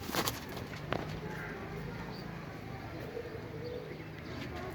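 Pigeons coo softly and repeatedly near an old breeder's lofts, a steady low warble with faint chirps from other birds and quiet background noise.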